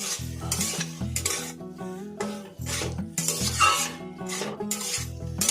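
Loti stems and prawns are stirred in a frying pan, with steady scraping strokes over a constant sizzle and a low tonal backing throughout.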